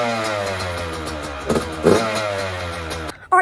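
A Yamaha YZ85 dirt bike engine runs loud and close with a buzzy two-stroke tone, rising in a couple of quick revs before cutting off abruptly near the end.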